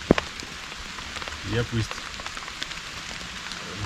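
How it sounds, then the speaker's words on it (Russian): Steady rain pattering on a small shelter in a forest camp beside a campfire, a continuous soft hiss with scattered drips, while someone speaks briefly over it. "Сидишь, идет дождь."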